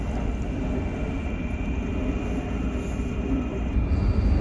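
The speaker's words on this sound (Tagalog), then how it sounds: "Napanood ko tuloy yung senaryo ng train." A train runs steadily from the front cab beside the driver, its broad rumble and rail noise holding constant and fairly loud throughout, with no talking.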